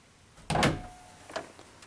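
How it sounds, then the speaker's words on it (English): A basement closet door held by ball catches snaps shut with one sharp, close knock, followed a moment later by a softer click, quiet room otherwise. "It pops up and down, and it snaps right up into these grooves here, and that's what keeps the door closed."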